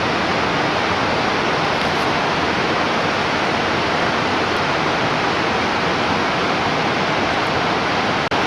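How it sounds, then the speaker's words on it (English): The Cranberry Rapids on the Liard River rush in a loud, steady, unbroken roar of whitewater, heard alone from start to finish. "these are the Cranberry Rapids on the Liard River"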